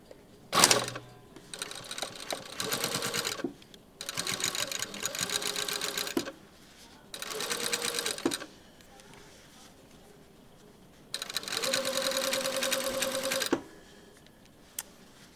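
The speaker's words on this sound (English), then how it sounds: "I'm going to stitch this all the way." A sewing machine stitches a shirt hem in several separate runs of fast, steady, whirring stitching, each lasting one to two seconds, with quiet pauses between them and a sharp clack near the start.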